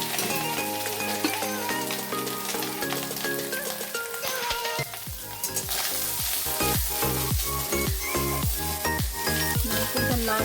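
Grated coconut fries in hot oil with fennel seeds, dried red chillies and bay leaves, a steady bright sizzle running the whole way with stirring scrapes and a louder, denser crackle in the second half.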